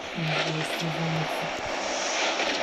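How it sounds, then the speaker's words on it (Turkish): A propeller airplane in PUBG Mobile drones overhead with a steady engine hum over a broad hiss, a low tonal whine wavering in and out. "Uçak bize doğru geliyormuş zaten"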